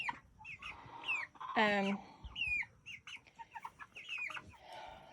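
Cornish cross meat chickens about five weeks old cluck and peep close by in a busy cluster, with one louder squawk standing out amid the chatter.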